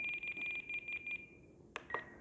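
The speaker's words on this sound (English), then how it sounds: "You hear that center tone?" An E-flite Night Vapor UMX RTF radio transmitter gives a fast run of quiet, evenly pulsed electronic beeps that then stop. A click and a short single tone follow, faint against a soft background hiss.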